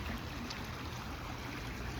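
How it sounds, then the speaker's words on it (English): A stream running high in the wet season ripples and rushes in a steady, soft wash of water, continuous and fairly faint with no voices. "I like the ripple sound."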